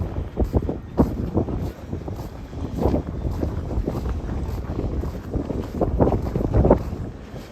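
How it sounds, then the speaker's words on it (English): Strong wind gusting outdoors in a snowy downtown street during the first snowfall, loud buffeting rumbles and microphone wind noise surging in irregular waves, with no talking. "The wind's picking up here."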